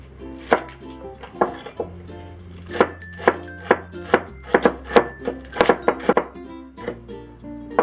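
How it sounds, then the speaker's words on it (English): A knife minces green onion on a board, a string of sharp close chops that start sparse and then quicken into faster bursts over a faint background hum, with no talking. "we'll also mince the green onion."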